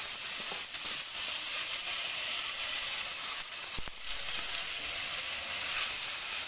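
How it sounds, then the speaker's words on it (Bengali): Chopped onions with a bay leaf fry in hot oil, giving a steady, close, bright sizzle and hiss throughout with a few soft stirring scrapes. "পেঁয়াজটা প্রথমে একটু ফ্রাই করে নিচ্ছি"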